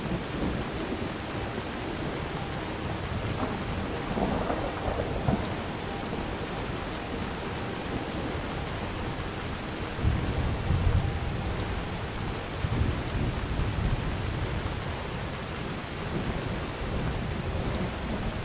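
Steady rain and rolling thunder in the Skyrim video game, a dense constant downpour with low rumbles swelling several times, no voices.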